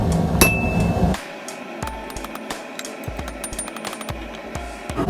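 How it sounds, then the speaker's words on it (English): Light, sharp metallic taps from a hammer on metal at a blacksmith's forge, several spaced irregularly, ringing briefly, after a short burst of louder clanking at the start. "doing a light tap with the hammer"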